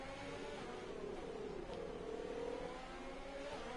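Formula 1 cars, a McLaren and a Ferrari, racing wheel to wheel in an F1 video game at Abu Dhabi, giving a steady high engine whine with a slowly bending pitch, a continuous drone throughout.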